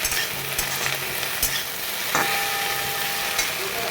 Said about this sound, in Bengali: এবার একটু ফ্লেমটাকে হাই করে ওটাকে ভালো করে ভেজে নেবো